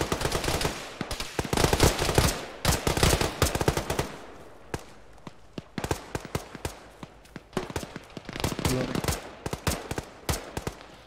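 Suppressing gunfire in an Arma squad operation, with loud, close bursts of rapid machine-gun and rifle fire in uneven clusters and short pauses, sometimes with voices talking.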